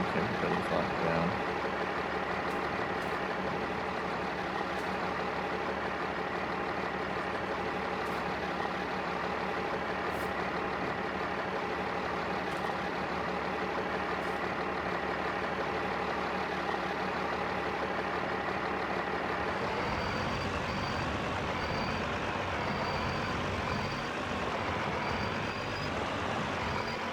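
A truck engine idles in Farming Simulator 22, a steady low rumble that runs unbroken throughout, shifting in tone about two-thirds of the way in as the truck begins reversing, with faint high beeps sounding over the drone.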